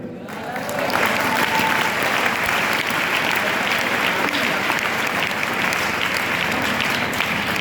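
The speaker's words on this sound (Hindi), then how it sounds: "ताली बजाना पड़ेगा" Audience at a Glaze Trading India business meeting claps steadily after a brief quiet start, a dense, sustained wash of many hands at full strength throughout.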